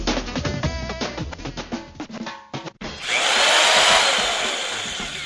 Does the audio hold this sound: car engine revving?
no